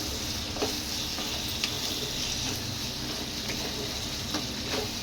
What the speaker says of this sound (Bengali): সসটা দিয়ে ভালো করে একটু মশলাটাকে একটু কষিয়ে নেব।